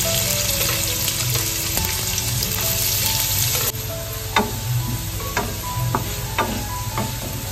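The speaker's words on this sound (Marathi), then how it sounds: "याच्यामध्ये कांदा घालून घेतोय." Onion sizzles steadily in hot oil in a pan for pav bhaji, a dense continuous frying hiss with a few faint clicks of stirring and no talk.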